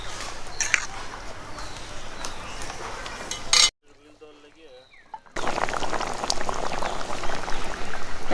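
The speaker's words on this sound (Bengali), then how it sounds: "এখন আমাদের জলটা ফুটে উঠেছে।" Water bubbles at a rolling boil in a pot for a fish curry in a home kitchen, with steady bubbling and faint utensil clinks as someone speaks, broken by a short silent gap.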